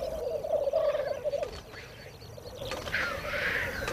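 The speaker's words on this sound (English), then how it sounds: "Black grouse are performing on their display sites, competing for the attention of the hens." Black grouse calling at a spring display site in misty morning countryside, a steady bubbling, cooing chorus carrying from a moderate distance, with fainter higher calls from other birds joining partway through.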